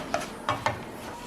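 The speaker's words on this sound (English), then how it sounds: "So I go in with my leftover vegetables. Give it a good mix." Leftover vegetables stirred in a pan over high heat give three short scraping clatters spaced across a second, with a faint sizzle underneath.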